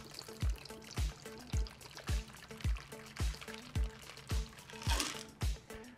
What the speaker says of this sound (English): And then we pour.